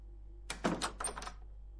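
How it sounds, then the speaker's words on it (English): A door creaking and thudding open in the horror video game Teke Teke, a short cluster of knocks and scrapes after a brief quiet stretch, fairly close and alone over a low hum. "Do I dare open this fucking door?"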